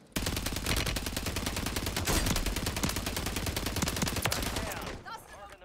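Sustained automatic gunfire in Call of Duty on Rebirth Island, a dense, loud stream of rapid shots that runs for about five seconds before cutting off into quieter game sound.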